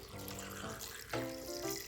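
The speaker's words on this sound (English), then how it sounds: "I'm going to pour some water in now." Water pours from a tap into a cooking pot for beef soup, a soft, fairly quiet running stream with brief changes in tone as the pot fills.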